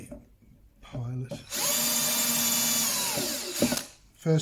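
A power drill spins up and runs steadily for a couple of seconds as it bores a small pilot hole for a screw thread in wood, then winds down, with brief clatter around it.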